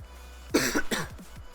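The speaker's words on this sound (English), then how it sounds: "Sorry. I'm gonna be coughing for a tad bit." Dry coughing from an irritated, itchy throat: two or three close, harsh bursts in quick succession, loud and near, with no talking.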